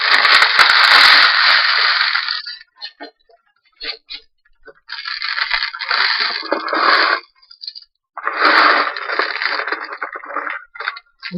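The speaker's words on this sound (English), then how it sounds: "a huge big box of beads that I will just tip into this and work from" A huge box of small beads is tipped into a container: long rushing, rattling pours of many beads in several bursts with brief pauses between them, close and loud, with no talking.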